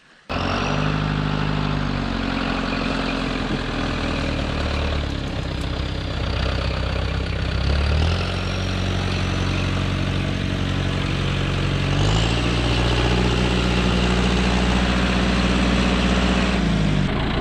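A John Deere 100-horsepower tractor engine idles and rumbles steadily up close, a deep low drone that briefly shifts pitch as it revs up and settles, during rotary tilling of a small rice paddy.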